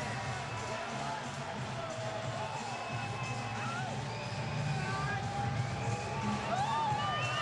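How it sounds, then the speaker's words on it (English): Crowd at a Mike Tyson exhibition boxing match cheering and whooping, a sustained distant roar with scattered shouts and whistles, and a commentator's voice over the noise. "listen to the crowd for the former heavyweight champion of the world"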